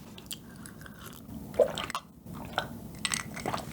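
Close, soft chewing of bread from an old Busan bakery, with a crumbly, crisp crust and a moist crumb, heard as a few moist bursts of crunching and squishing with quiet pauses between and no talk.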